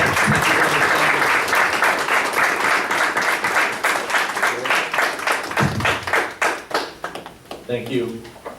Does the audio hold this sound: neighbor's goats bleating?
no